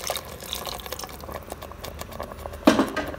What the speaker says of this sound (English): So we are going to add in the water now.